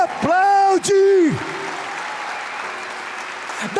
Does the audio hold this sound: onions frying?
no